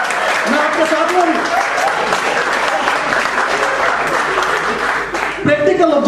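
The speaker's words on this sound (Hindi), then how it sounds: "इंजीनियरों जरा ज्यादा तालियां बजा दीजिए" An audience of engineers gives a sustained, dense round of applause at a comedy show, a steady roar of many hands lasting throughout, with a voice speaking over it near the end.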